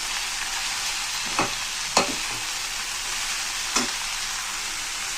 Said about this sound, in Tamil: அவரைக்காய் லைட்டாக வதங்கி வரட்டும்.